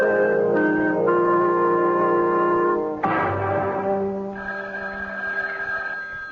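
A telephone bell rings in long, loud, steady bursts as a radio drama sound effect, close and clear with a brief break midway before ringing resumes, no talk over it.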